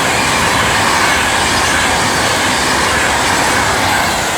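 Train 39124 passes at Stafford on the West Coast Main Line as a loud, steady, close roar of wheels and rail noise, with no let-up from start to finish.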